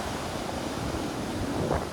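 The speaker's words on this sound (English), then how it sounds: "It gets completely wiped out by the sound of the ocean." Ocean waves on the Sri Lankan coast wash continuously in a steady, broad roar with wind mixed in, with no voices.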